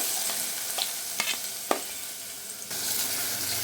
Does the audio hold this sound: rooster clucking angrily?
no